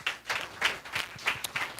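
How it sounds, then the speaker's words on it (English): A small audience claps at a panel discussion event, with scattered, uneven bursts of clapping at moderate volume and a few sharp individual claps near the end. "Round of applause for them."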